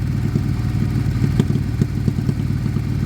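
An abandoned motorcycle engine, run during restoration, idles steadily and loudly up close, with an even low rumble and regular mechanical clatter.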